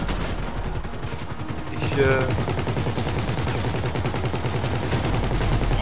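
Rapid automatic gunfire in the GTA V Online video game during a heist mission, sustained bursts close and loud throughout, with brief speech from a player over the shooting.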